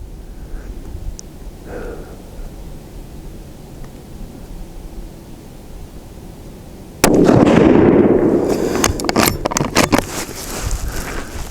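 A TC Compass rifle firing Sierra Palma 155g bullets outdoors in wind, heard as a sharp loud blast partway through, followed by a decaying rumble and scattered crackles over steady wind noise.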